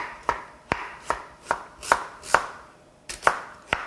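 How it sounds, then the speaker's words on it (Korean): A kitchen knife chops through pumpkin on a cutting board, about nine sharp, close knocks in a steady, even rhythm with nobody speaking. "이렇게 잘라서 씨를 제거할게요"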